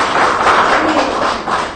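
An audience at a network marketing business seminar claps steadily, a loud, dense wash of hand-claps filling the whole moment without a break.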